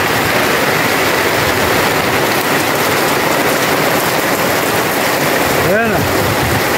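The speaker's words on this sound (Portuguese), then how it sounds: "Chuva comendo. Não dá pra gente trabalhar." Heavy rain pours down steadily outdoors, a loud, dense, continuous hiss with no break.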